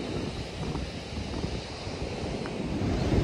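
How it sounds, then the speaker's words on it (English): Wind buffets a microphone outdoors, a constant rough low roar and rumble that swells gently throughout, with no voices. "it's starting to get a bit windy now"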